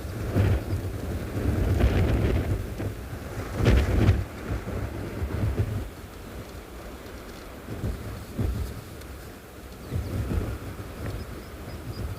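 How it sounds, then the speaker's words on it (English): Cold wind gusting across an open South African safari setting, a broad, steady rumble that swells in strong surges at about 1–4 seconds and again near 10 seconds, with no talking. "It's blowing a cold wind this way."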